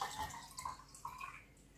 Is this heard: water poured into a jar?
yes